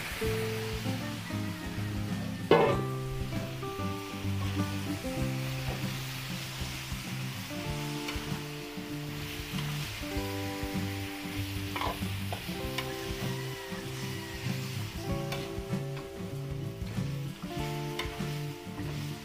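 Marinated beef sizzles in an oiled pan with a steady, hissing fry, joined by repeated spoon-and-pan stirring clatter and occasional sharper knocks, close and moderately quiet throughout.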